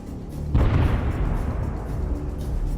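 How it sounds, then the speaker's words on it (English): A loud explosion bursts suddenly right beside the wheel of a military vehicle on a battlefield, a sharp boom followed by a long rumbling, debris-filled decay that does not fade to silence. "an explosion occurs right next to the wheel."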